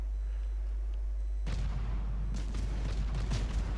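Warship main guns firing shells over an island in a naval video game, a heavy booming salvo erupting suddenly after a quiet low hum, followed by further rumbling blasts and rolling reverberation.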